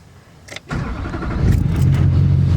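A Mazda RX-7 engine turns over and settles into a steady, deep idle rumble, close and loud, with no talking.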